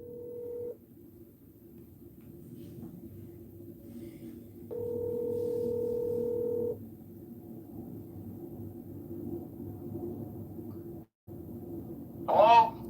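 A telephone call being placed for a congressional candidate: a steady dial tone hums, then a burst of DTMF dialing tones sounds, followed by a brief gap and a short ringing chirp near the end, fairly quiet and with no talk.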